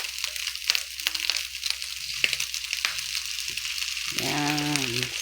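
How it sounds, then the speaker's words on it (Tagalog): Fried rice with minced fish and egg being stirred in a hot pan, a steady sizzle with scraping stir strokes throughout, ending with a brief harmonic sound near the end. "Saka natin hahaluin yung egg."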